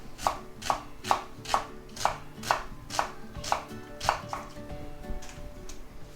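A knife chops through an onion on a board in about nine crisp, evenly spaced strokes, close and distinct, tapering off into softer cuts at the end with no talking.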